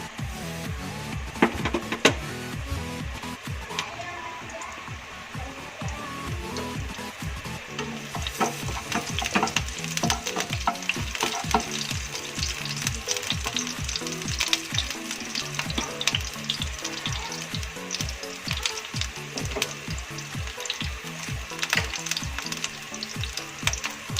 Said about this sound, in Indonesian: Kita tumis dulu bawang merahnya.